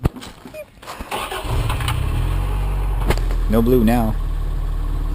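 A tuned car engine cranks and fires up, then settles into a loud, steady near rumble with a couple of revs, readied for brake stands; someone speaks briefly over it near the start.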